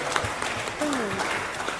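Audience applause at a quiz event at Sigma Club, UI, a steady wash of clapping throughout with a voice talking over it.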